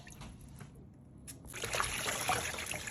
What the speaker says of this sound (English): now she's rinsing the yam